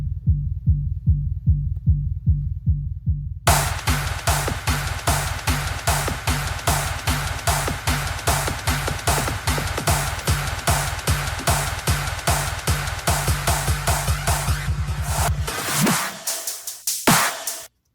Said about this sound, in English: So the kick is basically just, you know, sounds like it's like literally underground